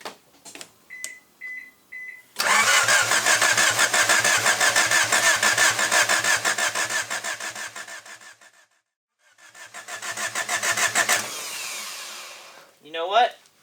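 After a few soft chimes, a Honda Civic engine converted from DPFI to MPFI fuel injection cranks loudly and rhythmically for several seconds, pauses, then cranks again without catching, close up.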